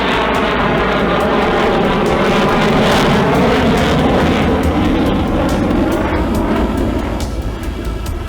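A CF-18 fighter jet flying past at a Canadian air show in Toronto: a loud, continuous roar of jet engines with broadband rushing noise that swells and holds for several seconds, with no speech.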